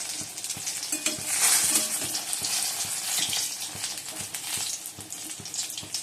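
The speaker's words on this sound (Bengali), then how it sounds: "বেগুনটা ভেজে নিচ্ছি" Eggplant frying in a pan gives a loud, continuous hissing sizzle with faint crackles and stirring clicks throughout, up close and with no voices.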